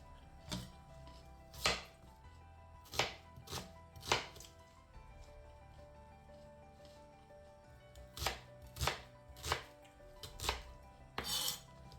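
An onion is chopped into pieces on a cutting board for cabbage and duck soup. Sharp knife strikes come in two clusters of close, distinct chops, with a short quiet gap between them.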